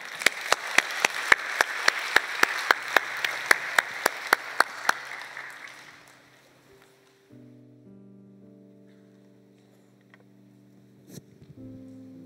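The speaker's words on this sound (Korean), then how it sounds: "우리 박수로 맞이해 주시기" A church congregation at a young adults' worship service applauds to welcome a speaker, bright rhythmic claps lasting about six seconds before fading into soft, sustained organ-like tones.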